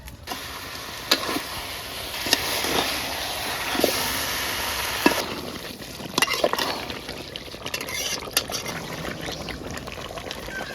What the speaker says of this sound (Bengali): এবার মাংসটা চুলোয় দিয়ে দিলাম।